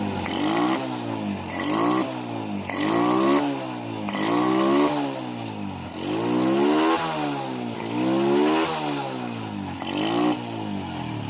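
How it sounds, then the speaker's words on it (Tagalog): A Honda Wave 100 motorcycle engine, after a starting fault, revs up and down repeatedly in rhythmic bursts, loud and close, each rise in pitch falling back to idle. "umandar ng kanyang motor"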